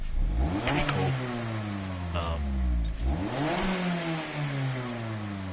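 A Mazda in the racing game Gran Turismo 7 revs hard twice, each rise sweeping up in pitch and then dropping back, loud and close with no talk over it.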